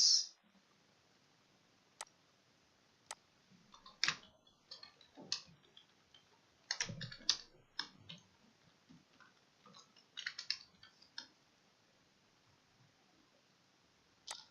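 Computer keyboard typing, irregular bursts of light clicks and taps scattered between pauses, close but quiet, with no talking heard.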